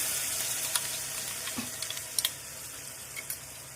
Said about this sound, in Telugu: కొద్దిగా అల్లం వెల్లుల్లి పేస్ట్ని వేసేసి పచ్చివాసన పోయేంత వరకు ఫ్రై చేయండి